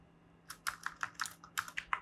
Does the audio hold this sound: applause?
no